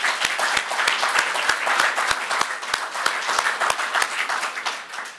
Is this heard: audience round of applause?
yes